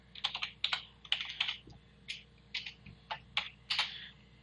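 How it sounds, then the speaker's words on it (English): Light, quick keystrokes on a computer keyboard as a short label is typed, coming in small irregular bursts, close and quiet with no talk. "all I need to do is just click on select and type"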